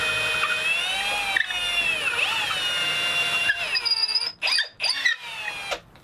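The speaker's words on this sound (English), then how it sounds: "As I'm drilling, I'm kind of using the neck pocket as a drill guide to keep the drill bit nice and straight." Power drill boring through a pine guitar body, using the neck pocket as a guide: a loud whining motor that rises and sags in pitch as it bites, then breaks into short choppy bursts toward the end.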